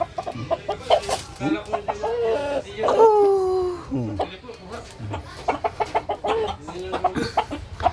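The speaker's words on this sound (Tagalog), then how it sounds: "Ang laki ng manok, ang laki, giant" A large native rooster of over 3 kilos clucks repeatedly close by, with a drawn-out call in the middle and sharp short clucks before and after.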